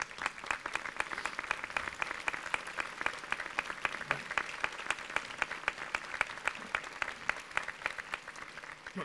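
A gathered audience bursts into sustained applause, a dense, even patter of many hands clapping at moderate distance and continuing without a break.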